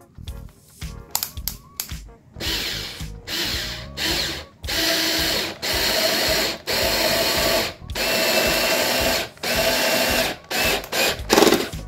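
An INGCO 8V cordless drill drives a screw at torque setting 5, with repeated close, loud bursts of motor whine broken by short pauses and ending in a brief ratcheting clutch slip.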